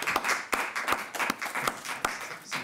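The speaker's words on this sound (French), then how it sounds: "Moi, je crois qu'on peut vous applaudir" Applause from an audience at a closing evening event, a run of sharp, uneven hand claps from a small group, fairly close and lively, with no speech over it.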